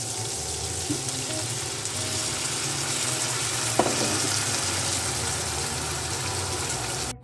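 A hot pan for cooking crayfish gives off a steady, fairly loud sizzling hiss for the whole stretch, with one brief clink near the middle and no voices.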